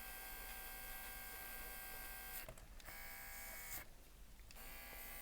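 An airbrush hisses steadily while spraying paint onto a Warhammer miniature, with a constant buzzing hum that cuts out briefly twice, as though the trigger is being released.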